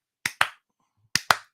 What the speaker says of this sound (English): Clap on the clapper.